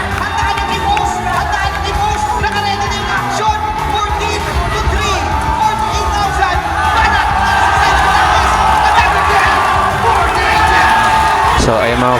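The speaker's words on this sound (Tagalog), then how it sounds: "grabe yung hiyawan ng mga Pinoy" Filipino fans at a live Honor of Kings esports tournament, a loud, sustained wall of cheering, shouting and whooping from a large indoor crowd, swelling in intensity toward the end.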